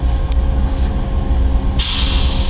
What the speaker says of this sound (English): Look at that Amtrak. Yeah, look at that big Amtrak.